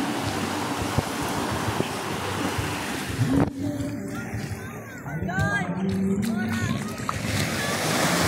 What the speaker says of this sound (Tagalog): Medyo malakas na yung alon eh.